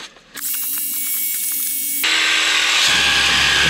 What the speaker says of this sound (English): it takes a little bit of time to get it primed up and actually spraying